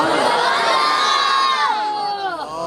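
A large crowd at a religious gathering shouts slogans in unison, loud sustained voices rising together and then breaking into a second surge of chanting near the end.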